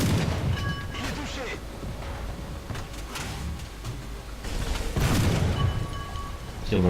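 Tank cannon fire and battle noise during a War Thunder match with a Crusader tank, heavy booms and rumbling blasts scattered through the clip, with someone talking over the action.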